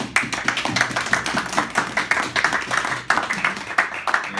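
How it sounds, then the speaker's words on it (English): A small audience applauds a guest at a beach-side broadcast show, with close, distinct hand claps forming an uneven patter over a few seconds. "So some round of applause for Jillian."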